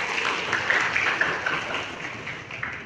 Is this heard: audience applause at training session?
yes